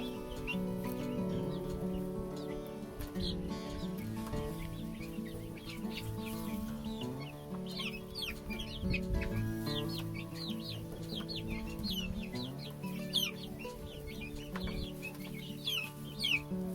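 Hens, including leghorns, clucking in an outdoor coop on their first morning out, with a continuous flock chatter of overlapping soft clucks and brief higher calls nearby.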